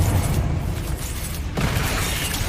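A Confringo spell blast from Hogwarts Legacy erupts as a loud, broad explosive burst midway. A rumbling, booming tail continues close and dense to the end, with no talk over it.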